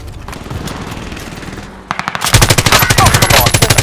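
Video game gunfire from a shooter match, a quieter stretch of scattered shots giving way to loud, rapid automatic bursts of evenly spaced rounds close by.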